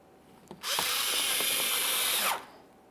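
A power drill drives a screw into a bumper cover panel on a 2014-2018 Mazda 3, with a single close, loud whirring burst of about two seconds after a brief click, then quiet.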